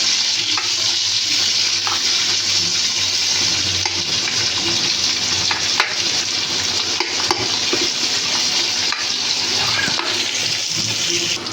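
Vegetables for chowmein fry in hot oil, giving a steady, loud, broadband sizzle with occasional scrapes and clicks of stirring throughout, and no voices.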